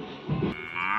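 A toy cow gives a single short electronic moo, close and clear, lasting about a second with no talking.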